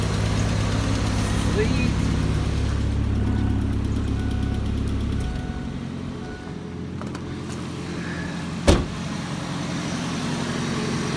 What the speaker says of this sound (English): Don't rev it, just let it run.